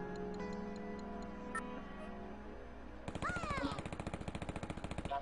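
A machine gun in Worms Open Warfare 2 fires after a quiet, humming stretch: a rapid, evenly spaced rattle of shots starts abruptly and continues steadily, clear and fairly loud.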